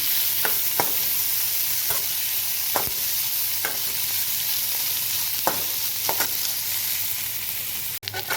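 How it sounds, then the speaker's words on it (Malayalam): Sliced onions sautéing in a pan for Kerala beetroot thoran, a steady close sizzle broken by regular scraping strokes of a spoon stirring them, with no talk. "നന്നായിട്ടൊന്ന് ഇളക്കാം നന്നായിട്ടൊന്ന് വഴന്ന് പറ്റുക"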